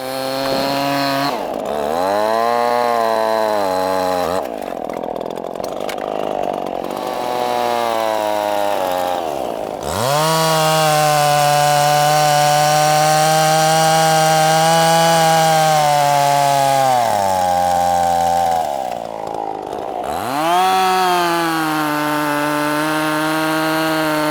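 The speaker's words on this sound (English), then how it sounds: "That's why I like a sharp saw, because I can control it." A hand saw rasps through dry wood in long, loud back-and-forth strokes, each stroke a harsh grinding pass with brief pauses between them.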